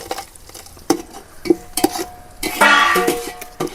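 Sliced onions frying with cardamom and cloves are stirred in a pan, giving scraping utensil strokes and clinks over a steady sizzle that swells louder in the second half.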